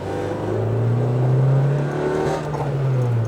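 A 1999 Honda Civic Type R EK9 with a B16B engine and aftermarket exhaust revs steadily from inside the moving car, a continuous loud engine drone rising and falling slightly with no talking.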